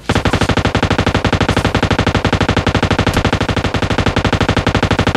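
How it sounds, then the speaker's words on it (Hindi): Rapid, relentless automatic gunfire in the video game PUBG Mobile Lite, a fast even stream of sharp shots rattling nonstop, loud and close. "जब भी फायर में हाथ रखता है 100 गोलियां छोड़ता है"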